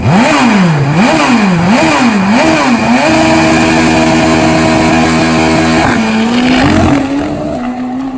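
A Kawasaki KZ turbo funny bike drag bike makes a loud, close pass, its engine howling through rapid rising and falling revs, then holding a steady high-pitched roar before shifting and fading slightly at the end.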